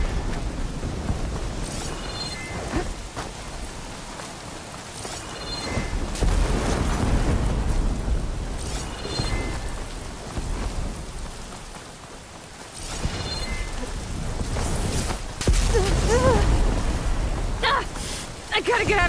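Rain and rolling thunder from a storm in the video game Horizon Forbidden West rumble steadily, with heavy low booms swelling and fading among a constant downpour and scattered game effects.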